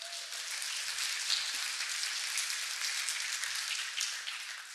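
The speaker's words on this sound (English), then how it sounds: "Please give her a round of applause." A conference audience at a DevOpsDays event in Eindhoven applauds, producing a steady wash of clapping at moderate volume that holds for several seconds and fades slightly at the end, with no talking.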